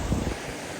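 Steady rushing water at a waterfall on an Adirondack High Peaks hiking loop, a broad continuous roar with heavier low-end surges in the opening moments before settling to an even wash, close and moderately loud, no voices.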